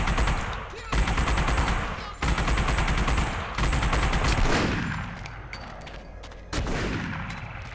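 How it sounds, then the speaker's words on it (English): Gunfire from the PS2 video game The Punisher rattles in repeated loud automatic bursts separated by brief pauses, with no talking. "Gunfire probably alerted the whole island by now."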